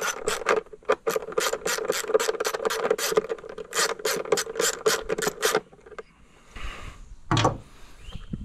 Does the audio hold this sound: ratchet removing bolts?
yes